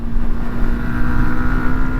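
A Yamaha MT125 or R125 2023 motorcycle engine revs high, a loud steady tonal drone held close to the microphone with no talk over it.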